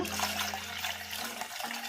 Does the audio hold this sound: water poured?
yes